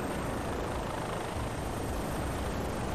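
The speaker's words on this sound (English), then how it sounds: "There's a helicopter." Helicopter in the video game Far Cry 3, a loud continuous rotor and engine roar with a choppy low rumble that fills the scene without a break.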